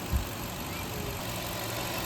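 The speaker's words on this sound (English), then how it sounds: "we're letting the engine get up to operating temperature and then checking this" A Lexus engine with misfires idles as it warms up to operating temperature, a low, steady, moderately quiet rumble with a brief thump near the start and no speech.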